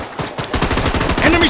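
Automatic gunfire rattles in the shooter video game Project BloodStrike, a rapid, loud burst of closely spaced shots lasting over a second, with no talking.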